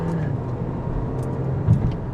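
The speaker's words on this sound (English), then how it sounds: "I want to use the paddle shifters really quick and see how this car handles" A 2025 Audi A5 with sport suspension driving around a sharp bend, heard from inside the cabin as a steady engine and road drone with a slight swell near the end.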